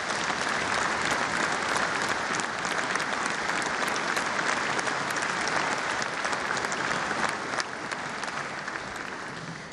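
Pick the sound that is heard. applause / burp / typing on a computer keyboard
applause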